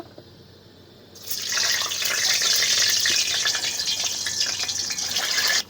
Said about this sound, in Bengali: তেল গরম হয়ে গেছে আর এই যে দেখতে পাচ্ছ ডিম ডিমগুলোকে আগে আমরা ভেজে নেবো